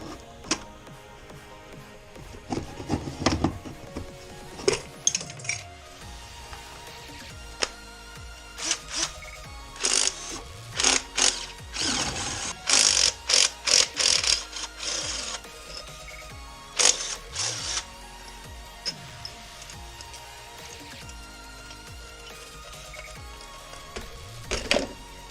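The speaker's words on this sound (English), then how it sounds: "First things first, we will go ahead and remove intake hose." Tools click, snap and rattle in irregular bursts as the intake hose is taken off the L98 Tuned Port Injection engine of a 1985 C4 Corvette. The sounds are close but fairly quiet, with short pauses between them.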